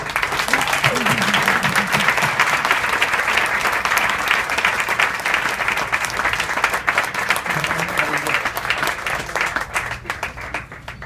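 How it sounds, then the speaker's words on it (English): Sustained applause from a luncheon audience, loud and even throughout, a steady wash of many hands clapping with a faint voice or two in the background. "Please join me with a round of applause"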